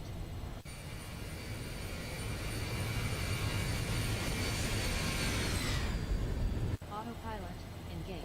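Jet engines of a Zibo Boeing 737-800 in X-Plane 12 roar steadily during the climb after takeoff, a constant whine and rumble with short cockpit callouts spoken over it.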